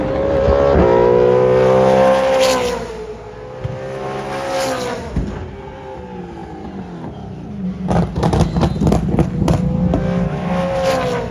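V8 Supercars race cars at the track, loud engines roaring past with rising and falling pitch, a fading pass, then a quieter gap before more cars rush by with harsh rasping bursts, no talk.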